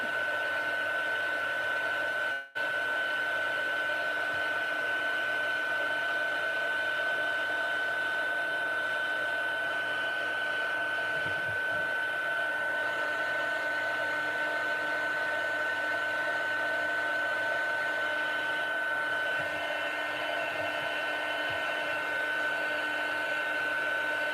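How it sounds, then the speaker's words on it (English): Craft heat tool blowing hot air, a steady close whirring hiss with a fixed tone running unbroken throughout, alone without talk. "I've heated up my heat tool and I'm just going to see if this will curl a bit"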